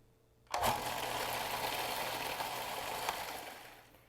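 A food processor blending cinnamon, nutmeg and other dry ingredients for peach crisp muffins switches on abruptly and runs as a loud, steady motor whir for about three and a half seconds before easing off.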